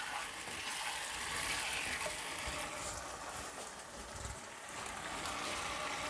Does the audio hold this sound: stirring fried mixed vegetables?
yes